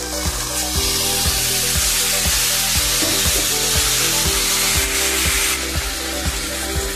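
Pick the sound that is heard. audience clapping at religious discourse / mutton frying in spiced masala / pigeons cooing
mutton frying in spiced masala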